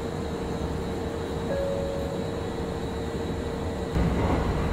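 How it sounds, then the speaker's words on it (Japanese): Kintetsu rapid express train on the Yoshino-bound line, pausing at a station to pass an oncoming train; a steady loud rumble and hum holds throughout, with a brief tonal whine mid-way and a louder surge near the end. "この駅で対向の列車と行き違います。"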